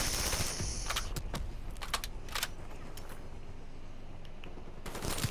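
Rapid bursts of gunfire shot through walls in Black Ops III, sharp cracks clustered in quick volleys with pauses between, fairly close and loud.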